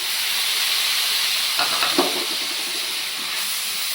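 Small tomato pieces drop into a hot pan for a drumstick and egg curry and give a loud, constant hissing sizzle. Brief spattering bursts come around the moment they land.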